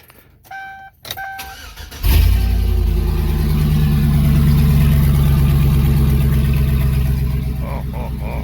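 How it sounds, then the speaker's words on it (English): A Chevy truck engine cranks with a few starter chirps, then catches and settles into a loud, rumbling idle through open headers with no exhaust, raw and close. "you're not a car guy if you don't crank it up and see what it sounds like with just open headers"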